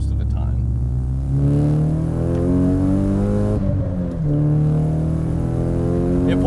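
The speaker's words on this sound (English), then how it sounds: "I think turbo 4 cylinders just sound way better than NA 4 cylinders most of the time." Nissan Silvia S15 Spec-R with a turbocharged SR four-cylinder engine revving up in a loud, close, rising drone, easing briefly once before climbing again.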